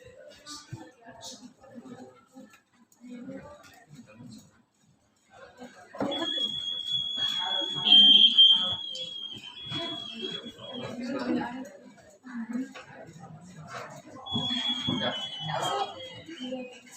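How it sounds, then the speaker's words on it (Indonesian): A water detector circuit's buzzer shrills in a classroom demonstration as it is sprayed with water, a steady high tone sounding in two long stretches while someone talks over it. "Ketika slab terkena air, maka bereaksi kepada buzzer dan lampu dan buzzer akan berbunyi ketika airnya menyerus."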